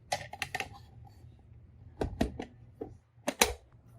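Shift key and keys of a Royal KMM manual typewriter clack in short separated bursts, a few sharp mechanical strikes with quiet pauses between them, close and alone.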